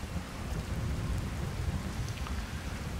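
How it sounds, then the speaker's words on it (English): Rain falls during a thunderstorm in a video game, a dense, steady wash of drops with low rumbling thunder underneath, moderately loud and continuous throughout. "Lightning strike."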